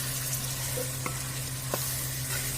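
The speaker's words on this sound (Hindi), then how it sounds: "जो हमने बॉयल करके रखी हुई गोजरी है, उसको ऐड करके ये देखें एक दफ़ा हिलाएं।" Boiled ojri tripe stirred into masala frying in a village-style pot, a continuous sizzle with a couple of brief spoon scrapes and a steady low hum underneath, close and even.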